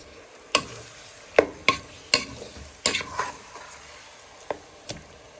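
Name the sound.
stirring beef brisket pieces around a frying pan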